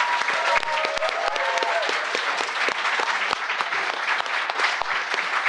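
Audience at a live board-game panel at an expo claps steadily, a dense wash of applause from a crowd filling the room for the whole stretch, with a few sharp individual claps standing out near the front.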